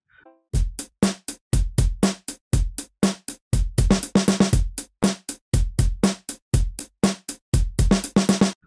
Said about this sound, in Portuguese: E esse é o som da bateria.